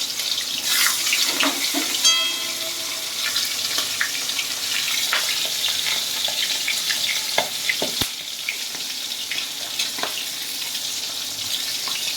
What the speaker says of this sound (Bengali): এবার আমি মাছের মাথাটা ভেজে নেব